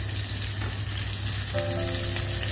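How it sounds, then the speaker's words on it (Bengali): Bhola fish frying in a pan of oil over medium-low heat, a steady, close crackling sizzle running throughout, with a faint tonal hum entering partway. "ওই জন্য হালকা মিডিয়াম টু লোতে রেখে ভাজবেন।"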